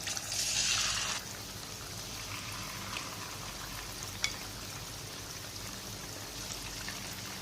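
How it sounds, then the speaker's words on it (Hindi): Chicken fries in hot oil over a medium flame, a steady soft sizzle throughout with a brief brighter hiss near the start and a single small click partway through. "तो इतनी देर में हम चिकन फ्राई कर लेते हैं।"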